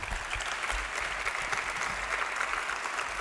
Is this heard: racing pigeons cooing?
no